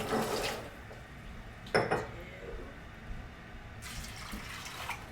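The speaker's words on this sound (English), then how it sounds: "So 3 quarts of water goes in first." Water runs from a tap into a metal home canner in bursts, about three quarts in all, with a hollow splashing rush, a pause, then more pouring; a faint clink of metal sounds between the bursts.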